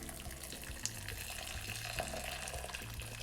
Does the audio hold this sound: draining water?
yes